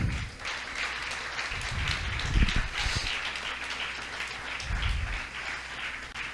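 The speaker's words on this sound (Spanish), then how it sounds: "¿le puede dar un aplauso al Señor?" Church congregation clapping during a Sunday sermon, a moderately loud patter of applause with a couple of low thumps and swells, fairly close and with no talk over it.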